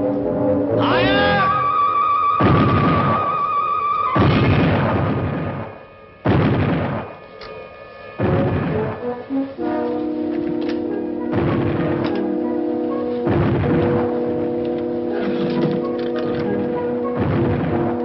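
A sailing ship's cannons fire a broadside in a series of about eight heavy booms, spaced a second or two apart, with sustained orchestral music tones between the blasts.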